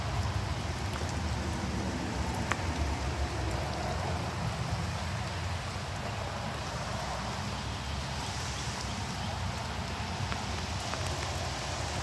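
Steady rain falls outside an off-grid tiny home, a continuous even wash of drops pattering on surfaces, with no voices.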